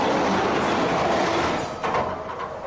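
A train in Japan thunders past directly overhead, a loud, close rumble with clattering wheels that eases slightly near the end, with no talk over it.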